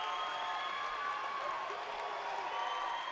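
A high school boys' basketball crowd at Old Lyme roars and applauds after a home three-pointer against Old Saybrook, a sustained, loud, even wash of cheering filling the gym.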